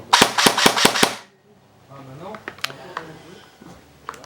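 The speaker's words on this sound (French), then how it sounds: "la rafale de 2 et rafale automatique" A Kriss Vector airsoft electric gun fires a quick automatic burst of about five sharp, evenly spaced cracks up close, followed by quieter mechanical clicks and handling noises.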